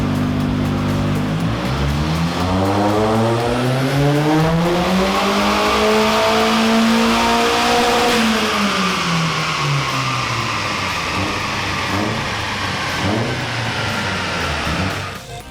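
Turbocharged 1.6 Mark II car with a TD04 turbo conversion and ME221 ECU revving on a dyno at wastegate pressure, engine note climbing steadily to a loud peak then falling away, continuous and close.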